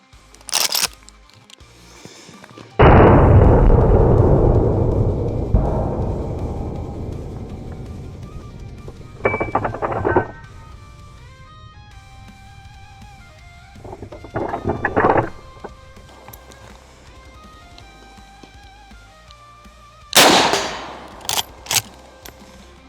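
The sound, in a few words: lever-action rifle shooting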